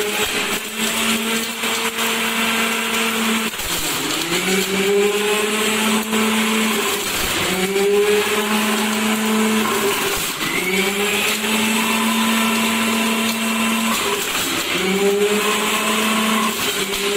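Carrots whirring in a juicer or blender in a Punjabi village kitchen, a loud steady motor whine that dips and restarts in several pulses over the full stretch, with no talking.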